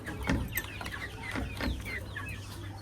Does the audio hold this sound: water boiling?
no